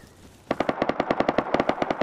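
Rust game gunfire from a Thompson submachine gun and a Bolt rifle: after a brief quiet start, a rapid, loud burst of around fifteen evenly spaced shots rattles on steadily to the end.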